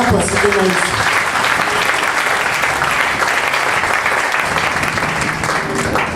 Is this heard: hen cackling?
no